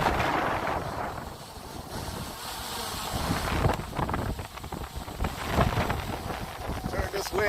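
Strong gusts of about 45 mph buffet a Mavic Air 2 drone flying at roughly 105 m over a field, making a continuous, loud roaring rumble of wind noise that swells and dips for the whole stretch.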